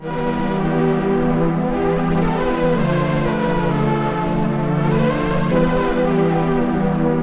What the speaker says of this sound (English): lo-fi type of sounds like this pad that I created